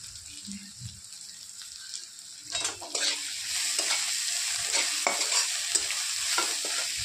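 Asafoetida and salt go into hot oil in a pan and are stirred. The quiet start gives way to a steady sizzle, broken by close scraping strokes of the spoon.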